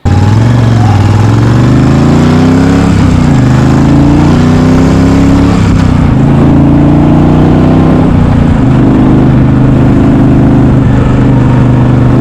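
A Yamaha Virago cafe racer motorcycle engine on its first ride, firing on only one cylinder, runs loud and close for the whole stretch, its pitch rising and falling as the throttle is worked through repeated revs and gear changes.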